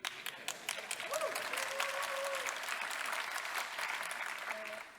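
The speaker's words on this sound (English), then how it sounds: "if you want to applaud, do it right" Audience applause at a city conference talk by the Tel Aviv-Yafo mayor, steady, fairly distant clapping from a hall full of people with a faint voice briefly audible beneath it.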